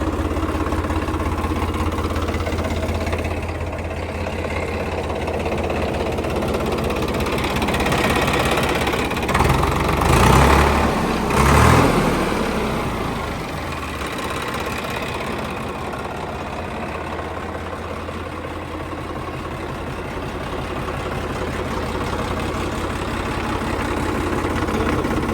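A Swaraj 855 tractor engine idles steadily and loudly up close, with a low rumbling throb that swells briefly in the middle before settling back to an even idle.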